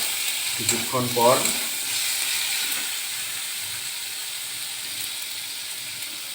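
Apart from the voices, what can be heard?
fish head and mung dal being sautéed in a pan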